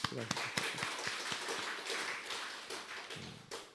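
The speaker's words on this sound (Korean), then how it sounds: "우리 박수 한번 쳐요." A church congregation claps together during a Sunday worship service, a loose burst of hand claps and taps that carries on for a few seconds, moderately loud in a reverberant hall, with some voices mixed in.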